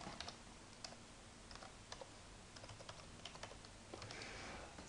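Fast typing on a computer keyboard, a run of crisp, close key clicks in irregular bursts with a few louder strikes, alone in a quiet room.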